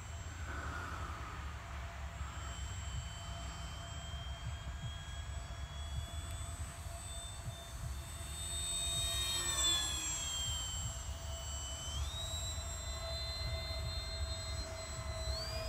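A Hawker Hurricane makes a low pass in front of the listener, its engine a rising and falling drone with shifting whining tones that swells near the middle and then eases away, heard alone over a low background rumble.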